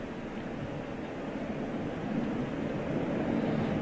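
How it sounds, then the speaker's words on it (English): A Boeing Dreamliner at windy Heathrow Airport gives off a steady, broad jet roar mixed with gusting wind, swelling slightly louder toward the end with no talking. "It's only a Dreamliner."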